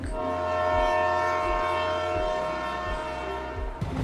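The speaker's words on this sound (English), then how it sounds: "After a few minutes, the train started moving." A train rumbles and clatters with rhythmic wheel knocks while a sustained horn tone sounds over it, moderately loud.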